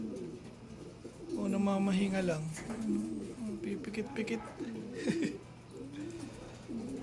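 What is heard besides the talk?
racing pigeons cooing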